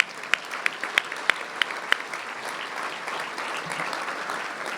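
An audience at an economic development breakfast breaks into applause, a few sharp close claps standing out early before the clapping settles into a steady, moderate wash.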